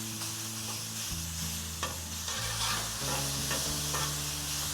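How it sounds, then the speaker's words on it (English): Seasoned ground beef with smoked paprika and salt frying in a pan for cheesesteak sliders, a steady sizzle under repeated scraping chops and stirs of a utensil against the pan, quiet and close with no voices. "Then we're gonna give this thing a nice little chop and stir."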